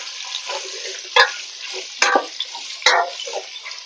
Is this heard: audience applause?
no